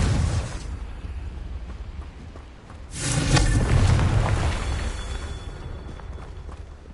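A Confringo fire spell from Hogwarts Legacy bursts into a loud, booming explosion about three seconds in, trailing into a rumbling decay under a steady background ambience.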